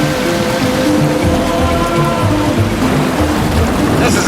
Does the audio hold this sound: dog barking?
no